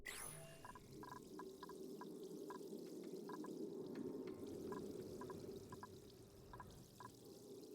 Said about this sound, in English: Why is there water noises here?